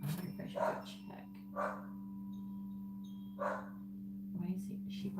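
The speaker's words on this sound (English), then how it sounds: "Why is she barking? She doesn't normally bark." A female dog named Stormy gives a few scattered barks from another room, set apart by pauses, over a steady electrical hum with some nearby talk.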